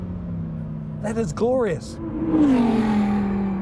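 The 5.2-litre V10 of a Lamborghini Huracán Tecnica revs sharply, with quick blips rising and falling, then a swelling high-pitched howl, loud and close, while someone speaks briefly over it.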